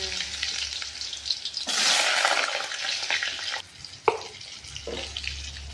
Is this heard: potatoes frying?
yes